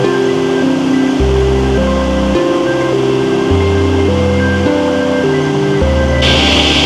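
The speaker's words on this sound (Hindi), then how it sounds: "कितने ऊपर से ये पानी गिर रहा है और यहाँ से सीधा ये नीचे की तरफ जा रहा है" Steady, loud rushing and splashing of a small waterfall near Indreni Waterfalls in Darjeeling, pouring down from a height, continuous and close, with a slow melodic music track playing underneath.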